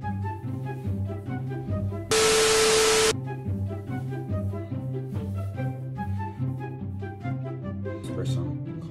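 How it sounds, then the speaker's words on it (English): A single steady hiss of cologne sprayed from an aerosol can, about one second long, over background music. "Spray some cologne"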